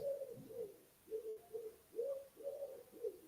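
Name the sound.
pigeon cooing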